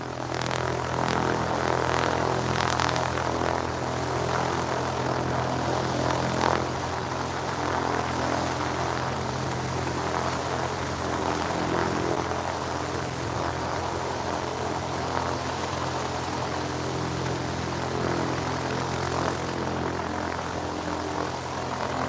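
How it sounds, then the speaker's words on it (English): A propeller airplane drones steadily nearby, a continuous low engine hum with a slight rising and falling tone throughout. "that noise is coming from that plane to the right there"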